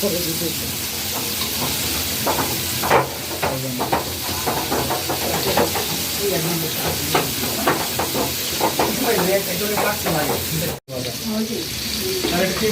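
Chicken pieces fry in hot oil with a loud, steady sizzle and hiss running the whole time, broken by scattered crackles, while a person talks over it.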